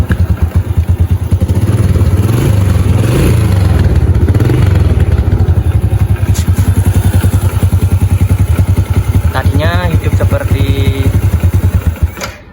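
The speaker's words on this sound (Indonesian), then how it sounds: "setelah saya ganti sekarang di sekali engkol digas pun nggak bakalan mati guys." Honda Supra motorcycle engine running steadily near the microphone with repeated throttle revs, a loud continuous mechanical drone with clatter, and a voice briefly heard near the end.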